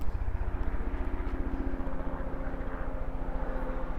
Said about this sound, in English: helicopter coming, probably SARS.